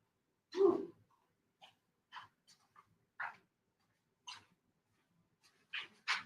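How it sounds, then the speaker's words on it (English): A dog gives a short burst of whimpering and breathy panting, followed by scattered soft whines and huffs spaced across several seconds, fairly close and otherwise quiet. "Ooh, that dog drives me nuts."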